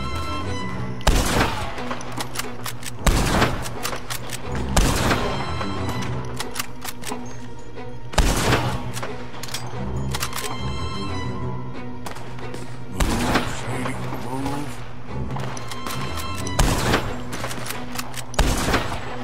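Repeated gunshots crack through a Red Dead Redemption 2 shootout, sharp loud bursts landing every second or two over a dense bed of sustained game music and ambience.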